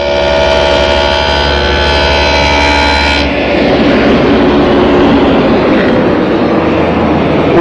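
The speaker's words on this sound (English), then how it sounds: "I'm now able to use the dado to create a rabbet." A dado cutter cuts a rabbet along a wooden cabinet side panel: a loud, steady humming motor whine gives way midway to a rougher, noisier roar as the cutter bites into the wood.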